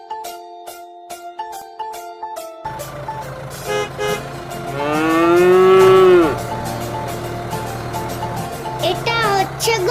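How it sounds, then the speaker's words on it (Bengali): A cow sound effect gives one long, loud, drawn-out moo in the middle, set against a light, tinkly children's tune with bell-like notes. "এটা হচ্ছে গরু।"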